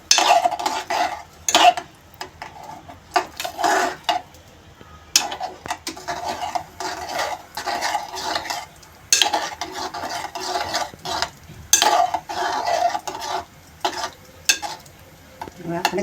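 A spoon stirs galka khichdi seasoned with salt, turmeric and red chilli in a metal pot, scraping and clinking in bursts with pauses between them, close up and moderately loud.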